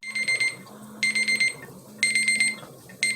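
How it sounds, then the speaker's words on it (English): An electronic kitchen timer beeps in repeated rapid bursts, four clusters about a second apart, shrill and clear over a faint background hum. "that's the timer saying that it's time to take the jelly out of the boiling water bath"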